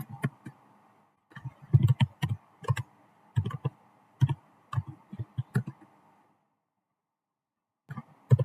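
Keys tapped on a computer keyboard while entering router commands, in short irregular bursts of close, crisp clicks with brief pauses and a longer gap before a final few strokes.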